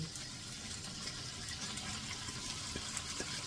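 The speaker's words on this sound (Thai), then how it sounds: "นี่เราก็ที่เราผสมไว้ทุกอย่างแล้วเนี่ย เราก็เทลงไปเลย" Mixed ingredients for a simple hot rice dish poured into a pan, a steady wet gush and hiss of liquid running throughout, with a few soft clinks near the end and no talking.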